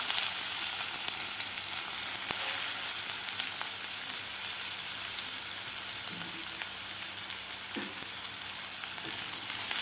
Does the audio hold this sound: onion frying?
yes